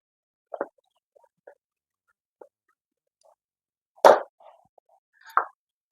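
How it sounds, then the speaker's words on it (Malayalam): Soybeans drop into a cooking pan for a soya roast, a few sparse soft plops and small clicks, with one louder plop near the middle and another close behind it, against near silence. "നമുക്കിനി സോയാബീൻ ഇട്ട് കൊടുക്കാം."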